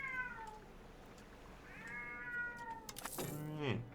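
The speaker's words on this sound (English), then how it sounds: "Don't mind the cat screaming in the background." A cat screams and meows in drawn-out, sliding yowls, several cries in a row, the last one loud and harsh, heard in a room in the background with no talk over it.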